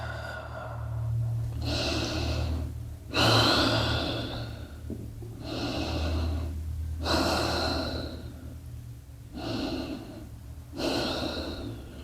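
Slow, deep breaths during a Pilates relaxation, about six long inhale-exhale cycles with short pauses between, close and clear, with a low steady hum underneath.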